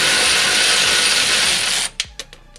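A ratchet on an extension loosens a standard 14 mm bolt on a 2018 Toyota Corolla E210 during a rear sway bar install. A dense, steady run of quick clicks breaks into a few separate ratchet strokes at the end.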